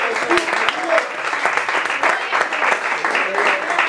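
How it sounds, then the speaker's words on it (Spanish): Church congregation applause during a Spanish-language sermon, dense rhythmic clapping from many hands with voices mixed in, close and fairly loud throughout. "¿Alguien puede dar un aplauso al Señor?"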